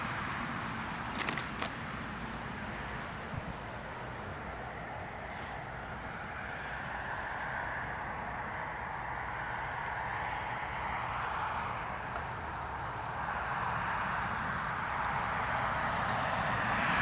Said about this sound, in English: The British Airways, the BA just coming in.